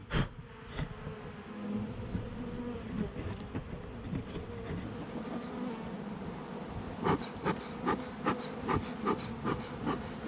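Honey bees buzz in a dense, steady drone around a hive box during a removal, close and continuous, with a few sharp knocks and taps near the end.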